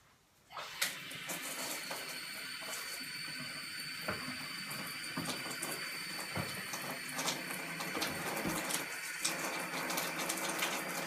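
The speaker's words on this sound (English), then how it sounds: "I'm going to immediately take this over to the sink and run it under some water and clean it quick." Tap water runs steadily into a kitchen sink, a continuous broadband rush with small splashes and clatters as something is rinsed under the stream, fairly close and without any talk.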